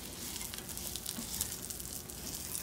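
Onion pieces half-frying in oil in a pan for Mexican mole, a soft, steady crackling sizzle heard close but faint, with no talking.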